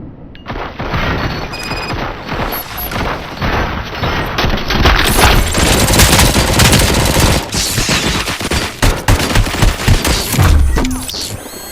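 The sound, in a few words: gunfire from the video game Robocop: Rogue City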